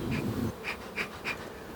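Honey bees buzz around a hive as a super is set on it, with a low rumble at the start followed by several short, close buzzing passes at roughly even intervals.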